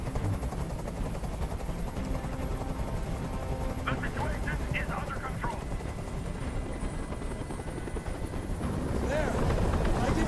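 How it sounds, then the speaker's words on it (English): A hovering helicopter in the game Detroit: Become Human drones with a constant rotor rumble beneath a tense hostage scene, while voices talk over it and brief sharp bursts cut through. "Tell that helicopter to get out of here!"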